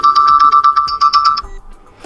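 A bright electronic ringtone beeps in a quick, even series of about a dozen pulses, loud and close, then cuts off into near silence.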